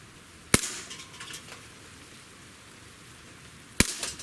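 Two sharp, loud shots from a Springfield Armory XDM pistol, one at the start and one near the end, each a crisp crack with a brief ringing tail and a quiet outdoor range between them.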